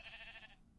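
A single sheep bleat from Minecraft, a clear nasal cry about half a second long, heard alone and close before it cuts off.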